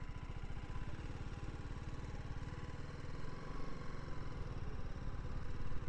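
A BMW G310 GS motorcycle idles nearby, its single-cylinder engine putting out a steady, rapid low-pitched putter with a constant rumble that swells slightly toward the end.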